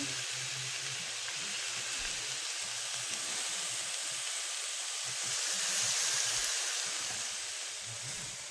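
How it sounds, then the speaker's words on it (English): Food sizzles steadily in a hot pan, a continuous bright crackling hiss that swells slightly midway, with no voices. "It's sizzling."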